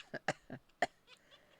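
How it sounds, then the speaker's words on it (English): A man coughs in his room, four or five short, dry, close bursts over a second and a half, then a quieter throat noise, with no talk. "I'm just coughing."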